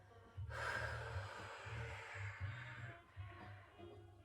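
A single soft, drawn-out exhale during a Pilates spine mobilisation exercise on a mat, close and quiet, lasting a few seconds and followed by faint breathing.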